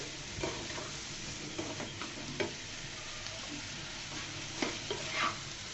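A tomato and egg stir-fry sizzles softly in a pan while a spatula stirs it, making faint, intermittent scrapes and taps over the low frying hiss.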